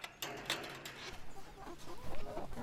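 Chickens on an Alberta farm cluck and murmur nearby in a busy, irregular flurry of short calls over outdoor background noise.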